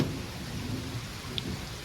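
An East Coast summer thunderstorm in late June, with steady rain hissing and low rumbling beneath it and one small sharp tick partway through, no voices.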